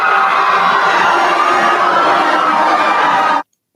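Large crowd at a Jojo Siwa event cheering and shouting, loud and continuous with dense voices, cutting off abruptly at the end.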